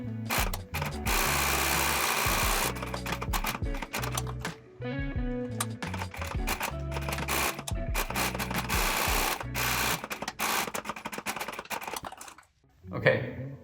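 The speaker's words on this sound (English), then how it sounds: "I will be doing that over at the sewing machine" A sewing machine stitches a leather handbag in loud bursts of rapid mechanical chatter, stopping and restarting several times, with short pauses and a few handling knocks between runs.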